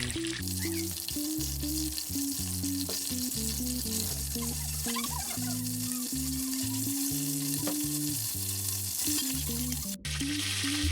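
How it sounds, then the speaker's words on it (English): Butter bubbles and sizzles steadily in a pan as it browns, a continuous close crackle running the whole time beneath a tonal backing of low, stepped notes. "Once it begins to bubble up like this, you really don't want to step away from the pan."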